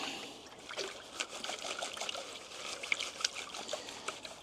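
Water sloshes and trickles as gold concentrate left over from a gold trap is swirled in a pan, a soft continuous watery swishing with small splashes, close and fairly quiet.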